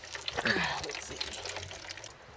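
Coolant draining from the radiator of a 2002 Subaru Impreza WRX, a steady trickling and splashing of liquid into a catch pan that gradually eases off, with someone talking over it.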